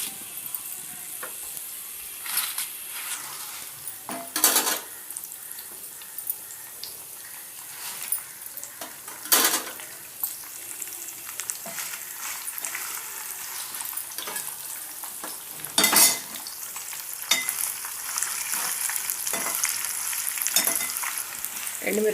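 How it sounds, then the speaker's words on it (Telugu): Dried red chillies fry in hot oil with a continuous crackling sizzle, broken by louder bursts of spattering and stirring. "ఎండుమిర్చి వేస్తున్నానండి"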